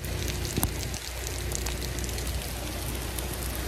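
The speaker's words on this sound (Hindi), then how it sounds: "फुल बारिश है पूरी जोर से" Heavy rain pouring down hard outdoors during a downpour, a dense continuous hiss of drops spattering on surfaces with no pauses and no voices.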